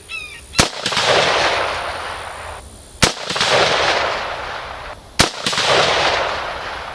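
Rifle with a long, slim pencil barrel fired at a target about 100 yards away: three sharp, loud gunshots spaced roughly two seconds apart, each followed by a rolling outdoor echo.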